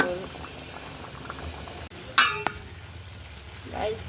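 A curry of elephant foot yam and hilsa fish boiling in a pot gives a steady bubbling simmer with a couple of sharp clinks and a short scrape midway, a voice faintly audible in the background.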